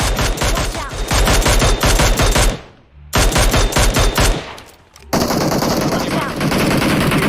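Gunfire in the PUBG Mobile video game: loud, close, rapid automatic bursts hammering continuously, broken by two brief pauses and then a dense fusillade that runs to the end.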